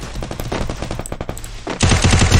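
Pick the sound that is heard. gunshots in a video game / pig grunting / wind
gunshots in a video game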